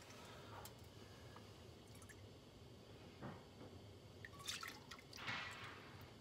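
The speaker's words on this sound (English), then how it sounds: "I take my regular whole milk here and put a half a cup of milk" Whole milk is poured into a pot on a stove, giving soft, faint splashing and dripping sounds in short bursts against a quiet background.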